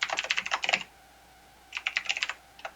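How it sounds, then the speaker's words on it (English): Computer keyboard typing while C# code is entered: a quick burst of close, crisp key clicks, a pause of about a second, then a second burst and one last isolated keystroke. "so I'm going to hit Control period on my keyboard"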